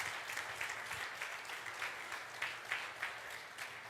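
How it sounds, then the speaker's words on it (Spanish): A church congregation clapping during a sermon, producing steady, moderately distant applause with rhythmic peaks throughout and no talking. "le podemos dar un aplauso a nuestro Padre"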